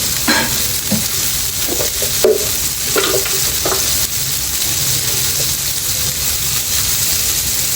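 Wagyu beef frying in a pan in its own rendered fat with no added oil, seasoned with ground black pepper; a steady sizzle runs throughout, broken by several distinct scraping stir strokes.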